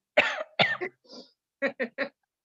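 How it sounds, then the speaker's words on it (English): A few harsh coughs, then a short burst of three quick, evenly spaced coughs, close and fairly loud with brief pauses between. "This cough is not COVID."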